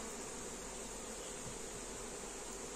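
Many Buckfast honey bees from a swarm at an apiary give off a continuous, even, low-level buzzing that fills the moment without pauses or voices.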